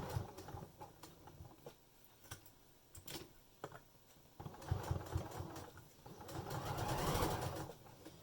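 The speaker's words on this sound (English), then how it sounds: "We're now just going to top stitch from the sewing that you've done here." Sewing machine top-stitching along the edge of a fabric face mask, bursts of rapid mechanical whirring and ticking that start and stop, close and fairly quiet, with no talking.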